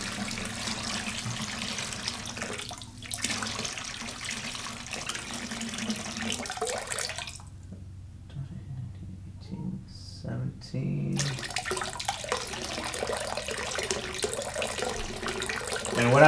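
Tap water runs steadily into a brewing kettle, a continuous close splashing that briefly drops away midway before the flow resumes, with some speech faintly in the background.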